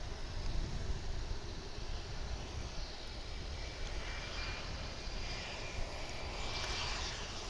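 Broadband roar of an American Airlines airliner in heritage livery at DFW International Airport, a steady, fairly loud engine rush that holds evenly throughout with no voices.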